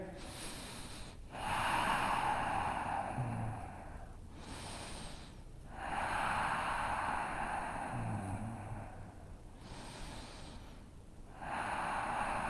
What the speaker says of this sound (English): Take about, 5 breaths here.